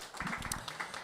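Church congregation applauding during a Sunday worship service, a short burst of steady, dense clapping from many hands, moderately loud and fairly close.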